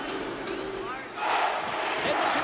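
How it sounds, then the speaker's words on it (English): Arena crowd in the NHL 24 hockey video game during an Edmonton Oilers playoff game: a steady, distant roar that swells louder partway through, with a voice speaking over it. "You can feel the energy in this crowd."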